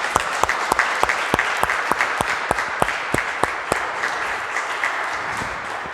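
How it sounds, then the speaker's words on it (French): A church congregation claps together in a steady, even rhythm of about three beats a second. The unison clapping is loud and close, with a low crowd murmur beneath it, and fades a little toward the end. "Alors comme ça, on va juste les applaudir."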